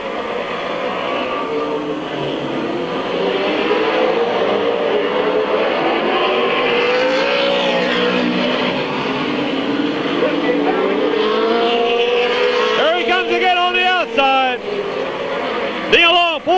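Race cars at Midvale Speedway in 1996 roar around the track in a continuous droning engine wash that rises and falls, with an announcer talking loudly over it.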